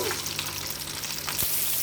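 Tempering seeds and chana dal frying in hot oil give a dense, close sizzle that holds steady throughout, with one short scraping sound near the end.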